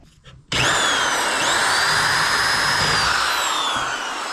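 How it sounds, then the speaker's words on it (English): A spot weld drill bit cuts out a factory spot weld on a Nissan Gloria car body. A loud, sustained high-pitched drilling whine kicks in abruptly after a half-second and holds steady to the end, with no voices. "usually I would drill a pilot hole for this spot weld drill bit to sit in"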